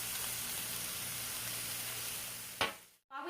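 Onion and hamburger meat sizzle steadily in a hot pan, a dense, even frying hiss close up, followed near the end by a brief clatter and a moment of near silence.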